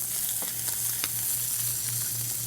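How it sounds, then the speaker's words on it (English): Lean filet mignon steaks sear in a hot pan with a continuous close sizzle and a few soft pops and crackles throughout, with no voices. "By searing the steaks, what you're doing is you're making the meat more flavorful and you're keeping the juices inside of the meat"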